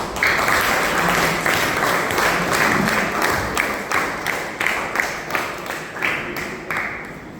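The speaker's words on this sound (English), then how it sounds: "Please welcome them to the stage with a huge round of applause." Audience applause for young performing artists from a music academy at an orphanage event, a sustained crowd of many hands clapping, fairly loud and continuous with scattered sharper claps.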